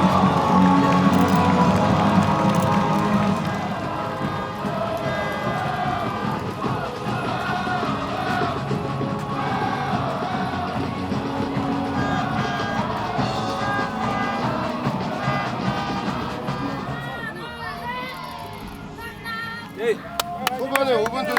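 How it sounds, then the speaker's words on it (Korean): A football stadium crowd for an FC Anyang match claps and cheers before kickoff, a broad roar of applause and voices with a public-address announcer speaking over it, fading toward the end. "오늘 멋진 경기를 펼쳐줄 양팀 선수단에게 큰 박수 부탁드립니다"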